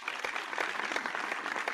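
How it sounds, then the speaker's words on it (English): An audience at the Grand Ole Opry claps in steady, dense applause, with many hands blending into a continuous crackle at moderate loudness. "Let's get you a round of applause from the audience in the Grand Ole Opry."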